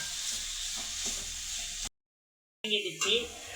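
Onions and tomatoes sautéing in a pan for a puri potato masala, a steady soft sizzle and stirring hiss, broken by a brief silent gap, with someone speaking over the cooking.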